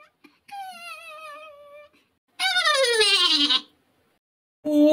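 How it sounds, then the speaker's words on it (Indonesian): A goat in the Sakura School Simulator game, found on an island, bleats in three loud, close calls separated by short silences, with the last one cut off. "Wah, ada kambing."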